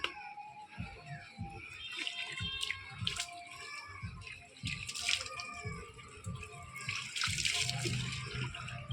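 Water poured over a person's head during a bath, splashing and trickling steadily for several seconds, close by, with faint background sounds and no clear talk.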